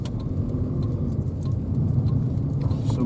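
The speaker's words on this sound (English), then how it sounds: "A lot of cars milling about." Several cars idling and moving slowly around the forecourt of a petrol station, a steady low engine rumble with faint clinks on top, moderately close and with no talk.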